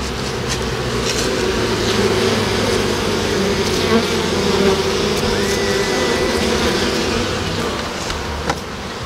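Honeybee colony humming at the hive, a loud, dense, steady drone lasting throughout, with occasional single bees buzzing closer past it.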